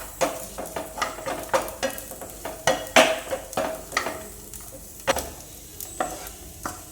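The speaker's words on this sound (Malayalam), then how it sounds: "മുളക് പൊടി കുറച്ച് ചേർത്തിട്ട് ഒന്നും കൂടി ഒന്ന് ഇളക്കി വെക്കാം" Onions stirred with turmeric and chilli powder in a pan, a spoon scraping in steady repeated strokes over a soft sizzle, close and moderately loud with no talking.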